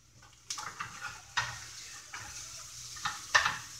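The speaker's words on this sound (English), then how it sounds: "Okay, so I'm going to go ahead and saute these." Vegetables sautéing in a pan for a meal prep, a quiet sizzle punctuated by several scraping stirs and light utensil clatter, close but faint.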